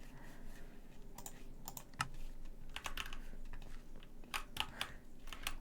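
Quiet, close typing on a computer keyboard, irregular clusters of light key clicks with brief pauses, no talking.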